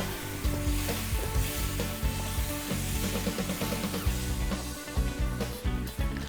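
Pork belly sizzles loudly in a wok with soy sauce and vinegar, a dense, bubbling hiss broken by regular scrapes and clanks of stirring, close and without voices.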